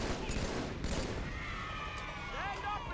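Gunfire from the Halo video game crackles in quick bursts at a low level, mixed with game noise and faint voices over a short stretch.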